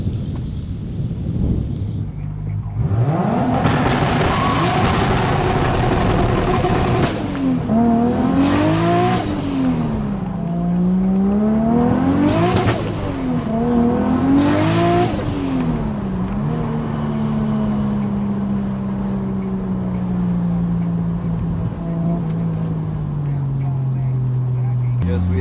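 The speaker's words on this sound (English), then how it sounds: "we have the car on some back roads out here. Just trying to get a good feel of the suspension, how the car accelerates" A 600 hp Toyota Aristo V160 sedan with a 3.0 2JZ engine accelerates hard on back roads, making several loud, close pulls that rise in pitch and drop at each gear shift before settling into a steady cruise.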